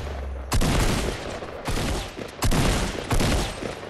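Gunfire in the video game Fortnite: several loud, sharp blasts at irregular intervals, each trailing into a noisy, echoing decay, close and dominant with no talk over them.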